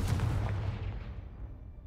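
A Confringo blasting spell going off in Hogwarts Legacy, a single loud booming blast with a low rumbling tail that fades over about two seconds.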